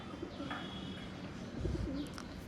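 Pet pigeons coo faintly and softly in a quiet indoor setting, with a low murmuring call near the middle and no talking.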